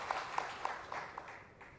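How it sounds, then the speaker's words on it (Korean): Applause from a crowd at a political party convention event, heard faintly as a short run of rhythmic, spaced claps that fade out after under two seconds. "박수 한번 칠까요?"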